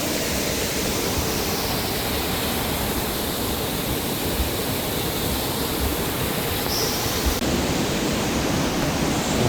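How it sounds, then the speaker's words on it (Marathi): Waterfall at Kondeshwar pouring with great force, a loud, steady, broadband roar of rushing water that fills the whole stretch without pause, with no voices over it. "हा बघा वॉटरफॉल यावेळेला तर जबरदस्त फोर्समध्ये"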